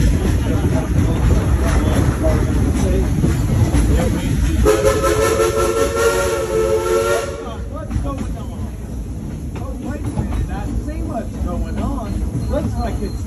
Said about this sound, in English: I think they're stopping our train.